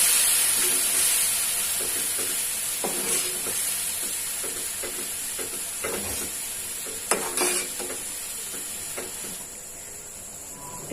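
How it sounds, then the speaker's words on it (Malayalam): Vinegar simmering in a pan for Kerala-style chicken pickle, giving a steady close hiss and bubbling sizzle with occasional stirring scrapes and clinks, no voices. "നന്നായിട്ടൊന്ന് തിളക്കട്ടെ."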